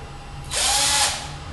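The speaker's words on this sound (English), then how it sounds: "Drill" A power drill fitted with a 2 millimetre bit spins up for about half a second in a loud, close burst, boring into a plastic toy car track or block of wood, then winds down.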